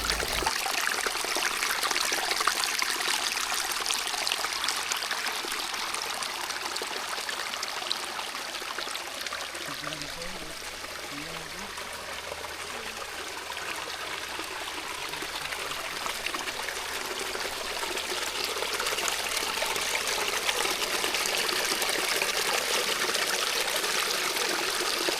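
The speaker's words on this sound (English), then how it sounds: "we came across a beautiful stream with clear, cold waters" A clear, cold natural mountain stream on a hiking trail flows and burbles steadily nearby, a constant rushing trickle of water with no voices.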